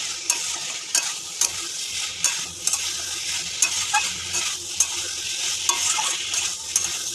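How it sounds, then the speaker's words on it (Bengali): Potato pieces and soybean chunks are stirred in a hot frying pan. A steady sizzle runs throughout while the spoon scrapes the pan in repeated rhythmic strokes, close up and clear. "আলুটা সবিনটা দিয়ে দিলাম বন্ধুরা। এবার একটু নেড়ে নেবো।"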